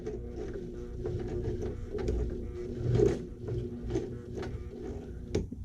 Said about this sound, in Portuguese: Vou costurar até ficar na medida de margem de costura.